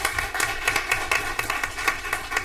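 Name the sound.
audience applause for student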